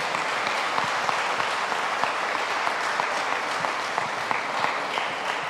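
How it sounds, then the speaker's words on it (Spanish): Steady applause from the congregation at an evening church Mass, honoring the young ladies; dense, even clapping that carries on unbroken for several seconds with no talk over it. "Un aplauso a las señoritas."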